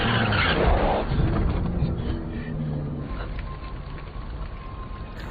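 A car in the film The Privilege speeds off and strikes a person, heard as a loud, close rush of engine and tire noise that fades over several seconds, ending in a sharp impact.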